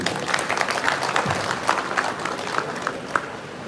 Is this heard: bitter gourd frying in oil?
no